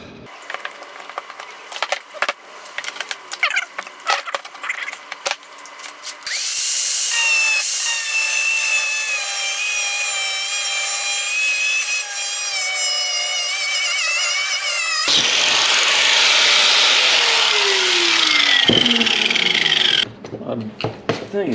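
A hand saw cuts a piece of trailer material, starting with scattered scrapes and taps and then settling into a long, loud, steady rasping stroke that changes pitch partway through, close up, with no talking.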